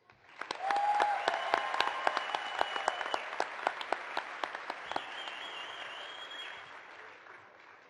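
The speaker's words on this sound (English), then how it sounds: "we get to applaud twice" A commencement audience applauds graduates in a steady, moderately distant wash of clapping that swells quickly and holds for several seconds, with a few sharper individual claps standing out and faint whistles or cheers over it.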